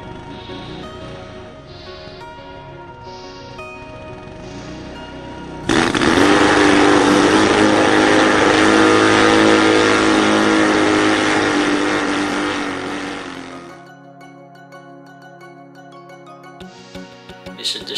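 Original petrol-engine starter unit for a navy plane running loud and steady for about eight seconds after a quieter lead-in, then dropping to a lower idle hum.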